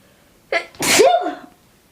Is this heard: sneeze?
yes